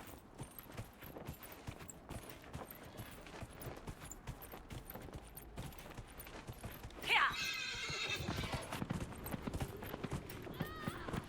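A horse in the video game Dragon Age: Inquisition gives a sharp whinny partway through over the clip-clop of hooves, followed by a steadier galloping rumble, with faint background game sounds.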